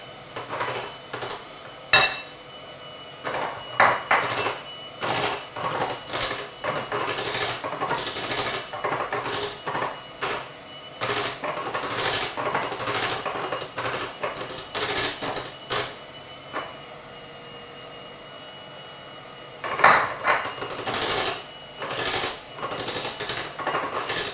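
An electric mixer whisking pavlova meringue at medium speed, with a steady whirring hum and rhythmic rattling of the beaters against the bowl, continuous and close over a long stretch.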